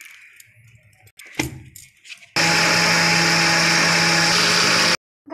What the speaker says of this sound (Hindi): मैं इसे मिक्सर जार में डालने वाली हूँ पीसने के लिए